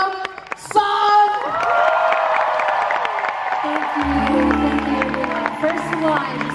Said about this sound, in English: Give a big round of applause as we welcome